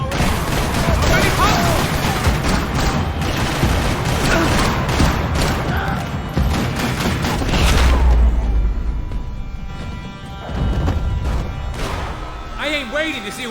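Gunfire crackles and booms throughout a shootout with cops in Max Payne 3, loud and continuous with crashes, under voices and a low impact near the middle.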